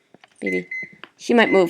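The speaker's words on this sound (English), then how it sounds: "Oh shoot, that's my alarm." A personal alarm lets out a steady electronic beep tone lasting about half a second, mixed in with nearby conversational speech.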